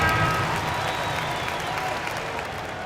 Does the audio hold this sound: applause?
yes